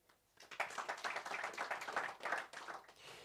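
An audience at a press conference for the Absa Run Your City Series breaks into steady applause that swells quickly, holds for about two seconds and then fades, with a moderately sized crowd clapping indoors.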